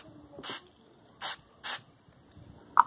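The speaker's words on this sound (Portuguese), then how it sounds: "só pegar com o sprayzinho ali," Lubricant spray shoots onto a gate hinge in three short, sharp hissing bursts, followed by a brief faint click.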